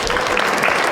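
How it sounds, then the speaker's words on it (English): Audience applause for a climber and rescue trainer at an ice climbing season opener event in Utah, a steady, dense burst of clapping filling the whole brief moment. "give him a round of applause."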